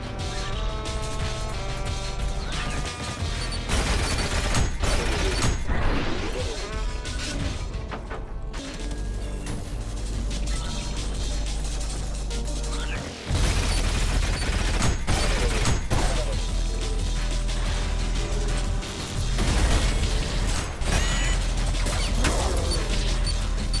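Gameplay from Ultrakill: the Screwdriver weapon tears through sentries amid a loud, continuous barrage of grinding mechanical whirs, metallic crashes and rapid impacts layered over pounding music.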